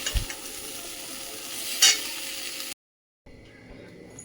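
Dal poured in and tempered for sambar makes a close sizzle and stirring scrape that rises to a louder burst, then cuts out abruptly before a softer hiss returns.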